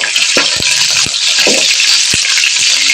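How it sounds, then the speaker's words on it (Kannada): Onions frying in a hot pan with garlic, mustard seeds and curry leaves for a Mangalore-style fish curry, a loud steady sizzle up close, punctuated by a few stirring knocks and scrapes, no talking. "ಚಂದ ಫ್ರೈ ಆಗಬೇಕು."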